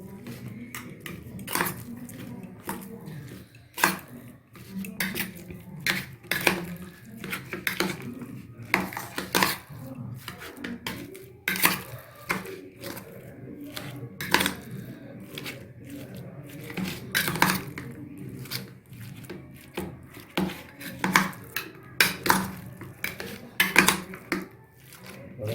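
Gondhoraj lemon juice being mixed in a bowl, a long run of quick close clinks and scrapes of a utensil against the bowl, fairly steady and rhythmic throughout.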